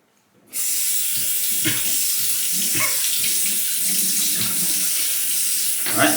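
Tap water runs steadily into a sink while a safety razor is rinsed after shaving, starting abruptly and flowing as a loud, even hiss with small splashy variations until the end, with no talking.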